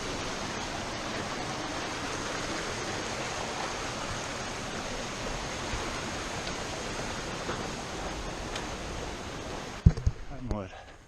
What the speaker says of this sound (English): Little waterfall right off in the trail.